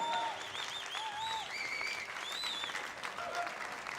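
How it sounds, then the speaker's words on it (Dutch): An audience applauds steadily at the Liet 2013 song contest after the winning act performs, a dense even clapping with scattered whistles that stays loud throughout. "Ja, nog een keer een groot applaus"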